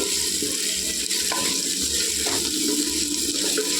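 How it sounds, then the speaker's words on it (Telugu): Water pours steadily into a cooking pot while biryani is being prepared, a continuous close splashing rush that stays fairly loud for the whole stretch with no voices over it. "ఇప్పుడు నీళ్ళు వేసుకోవాలండి ఒకటికి ఒకటిన్నర వేసుకోవాలండి నీళ్ళు"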